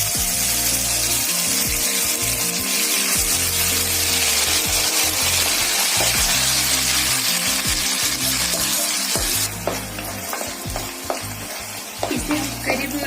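Mashed carrot sizzles and is stirred steadily in hot ghee with cardamom for gajar halwa, a loud, continuous frying hiss with rhythmic spoon scraping, no voices.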